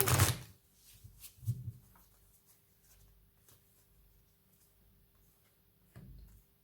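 Tarot cards being shuffled give a few brief papery riffles and flicks. The clearest burst comes at the start, with softer handling noises later; the sound is close and quiet, with no talking.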